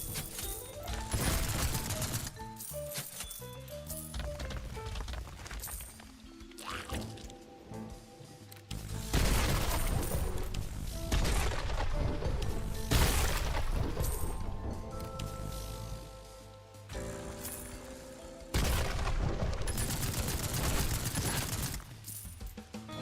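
Arc rifle gunfire in a video game, heard as bursts of crackling electric discharges and sharp zaps mixed with dense game music and effects, loud and continuous with brief lulls between volleys.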